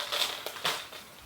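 Crinkly plastic rustling and crunching as fingers dig around inside a small packet, in a couple of short bursts, close up.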